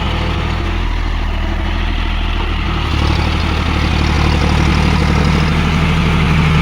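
A John Deere 5105 4WD tractor engine runs with a rotavator in low second gear at about 1500 rpm, a loud, steady low diesel drone close by that thickens slightly partway through.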